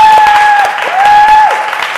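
Applause from a group at a CrossFit Open 18.2 recap show, loud dense clapping that runs throughout, with a steady whistle-like tone sustained over it.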